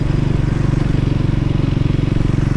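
A Triumph Scrambler 400 X motorcycle being ridden, its single-cylinder engine thrumming steadily and loudly close by with a rapid, even pulse and no voices over it.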